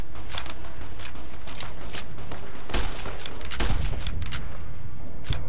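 Gunfire in VATS mode in the video game Fallout: New Vegas, a dense volley of sharp shots and mechanical clatter layered over constant game noise, with heavier blasts near the middle.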